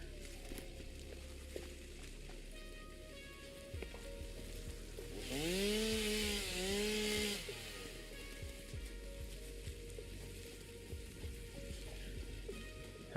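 Chainsaw in the video game Satisfactory revving up in one rising and falling buzz lasting about two seconds, set against a low steady machinery hum.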